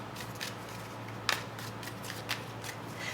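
A deck of tarot cards is shuffled, giving soft papery riffles and a few sharper slaps at irregular moments over a low steady hum, quiet and close.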